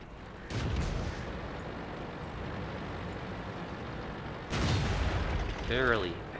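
A tank shell strikes and bounces off the armor of a heavily armored British AT-8 tank destroyer in a tank video game. Heavy booming impacts and rumble sound at the start and near the end while someone talks.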